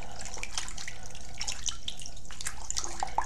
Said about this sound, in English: And then I'm going to rinse that off.